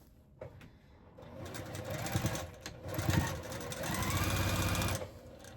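A sewing machine runs while stitching quilt sashing, with a whirring motor and rapid needle chatter that builds and varies in speed over several seconds, fairly close and moderately quiet.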